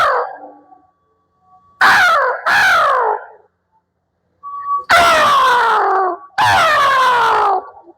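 A voice imitates crows cawing: four harsh, drawn-out caws that fall in pitch, loud and close, each separated by short pauses.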